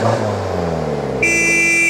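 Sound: car horn honking

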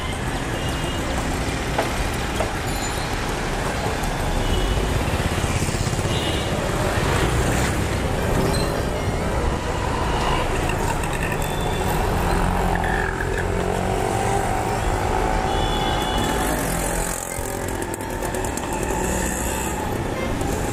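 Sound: street traffic in Mumbai

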